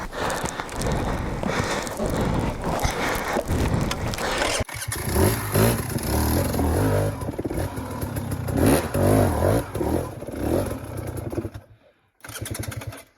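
A dirt bike engine fires up on its electric start after a brief cranking, then idles and revs loudly up close with clattering mechanical noise, cutting out briefly near the end before running again.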